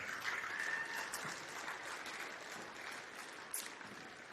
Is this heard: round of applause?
yes